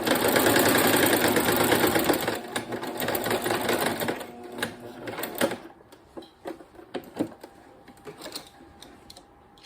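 Sewing machine running fast as it stitches fabric edges together, a dense mechanical whirr that breaks into shorter bursts of clattering stitches and then slows to a halt.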